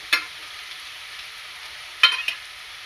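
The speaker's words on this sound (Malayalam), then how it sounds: "ഉപ്പ് ഇവയെല്ലാം ഇട്ട ശേഷം ഒന്ന് നല്ലപോലെ വഴറ്റിയെടുക്കാം" Green chili, garlic and curry leaves hit a hot pan, giving two brief bursts of sizzling and stirring against a quiet background hiss.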